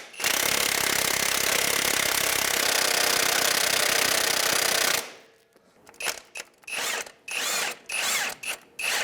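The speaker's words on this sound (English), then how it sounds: "You can go ahead and put your 19mm on an impact." An impact wrench hammers loudly and continuously for several seconds on a 19mm crankshaft damper bolt of a Honda Element engine, then fires in a series of short, sharp bursts separated by pauses.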